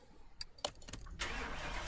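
Simulated Lamborghini Huracan LP-610 engine in Car Mechanic Simulator 2018 turns over on a dyno, a few short cranking bursts followed by a steady, loud running roar from about mid-clip onward.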